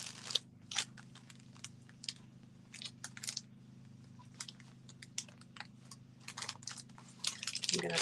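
Blade crunches through printable heat transfer vinyl in a series of short, crisp snips and clicks, irregularly spaced over a steady low electrical hum, fairly close and quiet.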